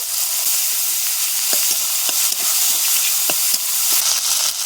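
Ginger paste and salted tomato fry in a pan for a potato and cauliflower curry, giving a bright steady hissing sizzle with small crackles and pops throughout and no voices.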